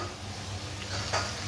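Food frying in a pan at home, a steady close sizzle with a brief brighter crackle of stirring near the end, no voices.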